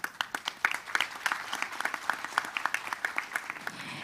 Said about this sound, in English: let's give another big round of applause to our Vice Minister